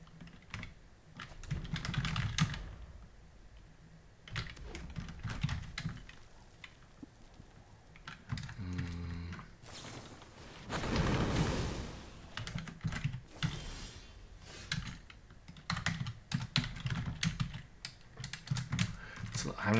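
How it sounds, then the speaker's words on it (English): Computer keyboard keys tapped in quick, uneven bursts while a search is typed, the clicks sitting close and fairly loud with intermittent talking over them. "I'm not very good at typing the search out"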